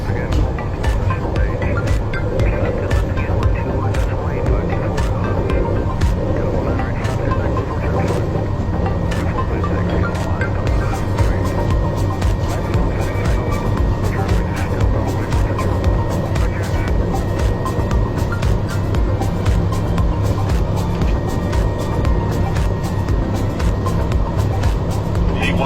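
Light aircraft engine droning steadily through the takeoff roll on runway 24, loud and continuous, with radio-style cockpit voices talking over it.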